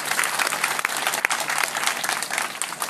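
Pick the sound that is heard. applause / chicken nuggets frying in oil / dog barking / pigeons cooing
applause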